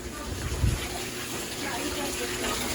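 Water gushes steadily through a hose while a home water heater is drained during an anode rod change, a constant close rushing hiss with a brief low thump early on.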